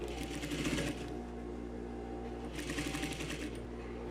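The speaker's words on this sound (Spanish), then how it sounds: "Debemos acomodar la pieza con la finalidad de que vayamos cosiendo exactamente por los puntos marcados." Sewing machine stitching the front piece of a tailored vest, a steady mechanical hum and rapid needle rattle running throughout, with bursts of faster stitching at the start and end, moderately quiet and close.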